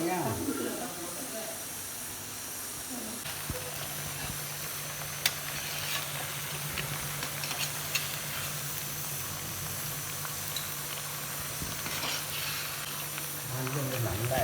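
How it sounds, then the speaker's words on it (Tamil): Country chicken pieces fry with turmeric and onions in a pan while being stirred. A steady, even sizzling hiss continues throughout over a low constant hum, with a few faint scrapes. "மஞ்சள் நல்லா எல்லாம் பிடிக்கிற மாதிரி கிண்டணும்"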